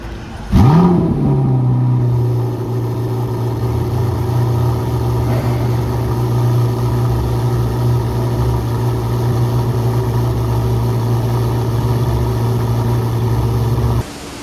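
A Corvette C8 ZR1's 1,064-horsepower engine starts with a sharp burst, then settles into a loud, steady rumbling idle that holds for several seconds before cutting off.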